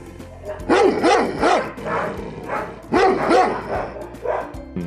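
A dog at an animal shelter in Mukachevo barks loudly and close, with two rapid bursts of several barks each, separated by short pauses.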